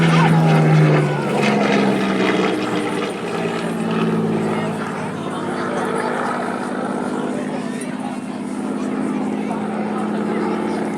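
At the Southport air show, the last Hawker Hurricane fighter ever built drones overhead. Its propeller engine gives a strong, steady tone that fades slightly and then holds as the plane passes.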